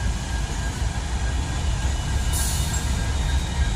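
A freight train rolls past on the Norfolk Southern Harrisburg Division with a steady, loud low rumble of wagons and wheels that holds for the whole stretch, with a brief hiss of higher noise partway through.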